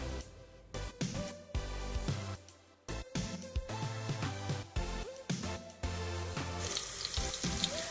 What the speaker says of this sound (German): Unsere Zwiebeln sind nun im Topf gelandet und dürfen dünsten.